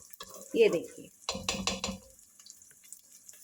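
Eggs being scrambled in a pan or on a tava for Schezwan egg noodles, with scraping and stirring clatter and a light sizzle, louder in bursts through the middle of the clip, then fading.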